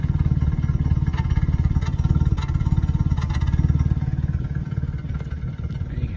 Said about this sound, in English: There you go, you can listen to the exhaust.